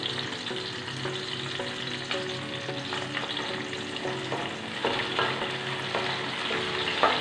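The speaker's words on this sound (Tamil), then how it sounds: "கொஞ்சம் கருவேப்பிலை சேர்த்துக்கிறேன்." Curry leaves and slit green chillies fry in hot oil for a fish curry, giving a steady close sizzle with occasional stirring taps against the pan and no talk.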